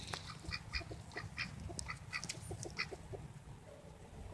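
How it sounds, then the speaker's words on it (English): Several ducks quack in quick, overlapping bursts against a steady outdoor background, fairly close and moderately loud. "Ducks."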